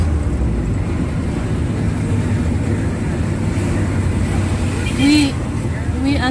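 Street traffic rolls by while driving through Douala, Cameroon, a dense, loud steady roadway rumble with engine drone, a horn-like tone near the end, and people talking over it.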